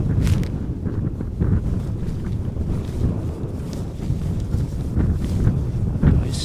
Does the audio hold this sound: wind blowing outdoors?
yes